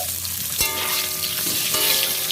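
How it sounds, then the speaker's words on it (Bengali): Eggs frying in oil in a pan for an egg curry give a steady close sizzle, with a sharp crackle or clatter near the half-second mark and softer pops scattered through, no voices. "ডিমের কারিটা করবো বলে ডিমগুলো ভেজে নিচ্ছি"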